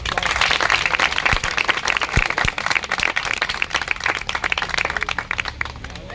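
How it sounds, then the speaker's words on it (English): Audience applause at a Sicasa Speakers' Forum meeting in Bengaluru, a dense, steady clapping from a crowd that stays strong for several seconds before tapering slightly, with no voices over it. "So shall we give her a round of applause?"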